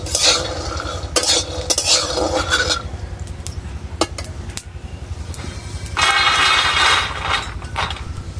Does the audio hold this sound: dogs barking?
no